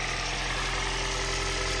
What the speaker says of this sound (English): I'm running the engine right now